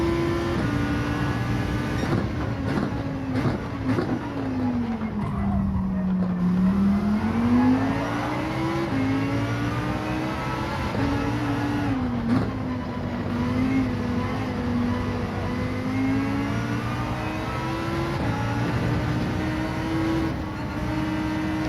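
Lamborghini Huracan race car in Gran Turismo 7 lapping the Catalunya circuit, its engine droning continuously and loud, pitch dipping under braking around the five-second mark then climbing again through steady revving and shifts.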